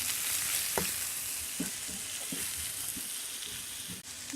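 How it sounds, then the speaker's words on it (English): Sardine and spices for a spinach and sardine crêpe filling are stirred in a frying pan: a steady, close sizzle broken by soft, regular scrapes of the spoon. "Now we're adding our spices and mixing that around."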